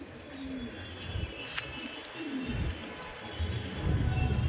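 Rampuri pigeons coo close by in a loft, low rolling calls repeating at intervals over rustling and handling noise.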